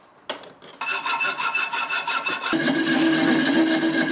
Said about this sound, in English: go ahead and cut out you know, general shape of the knife